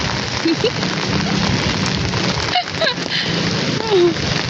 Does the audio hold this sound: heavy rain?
yes